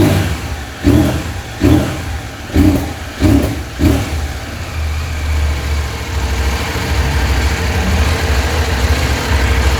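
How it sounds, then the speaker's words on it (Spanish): A KTM 790 motorcycle engine is started and blipped: a series of five or six sharp throttle revs in quick succession, then a settling, steady idle rumble, close and loud. "Le vamos a encender para que le escuchen. Pueden escuchar el sonido característico de la KTM"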